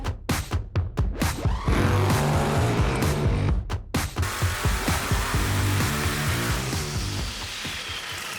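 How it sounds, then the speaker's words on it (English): A 526 cubic inch 10-71 supercharged Hemi running on pump gas roars on an engine dyno, opening with sharp, choppy bursts of revving, then settling into a loud, sustained, crackling pull up close. "I'm on the dyno today with a 526 cubic inch 1071 supercharged Hemi"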